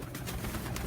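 Lal Pari pigeons coo softly on a rooftop loft, a brief low murmuring coo within a steady outdoor hiss.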